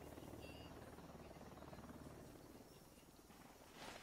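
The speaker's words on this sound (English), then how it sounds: "And now we've got a helicopter coming in." A helicopter approaching in the video game Ghost Recon Wildlands, a faint, steady rotor buzz and throb that continues throughout with a slight swell at the end.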